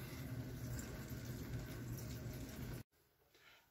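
Water runs steadily into a cooking pot of chilies for a few seconds, then stops abruptly, leaving quiet room tone behind.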